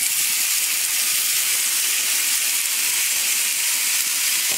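Country tomatoes and curry leaves sauté in a hot pan, giving a steady, loud, unbroken hiss of sizzling that holds evenly throughout with no talking.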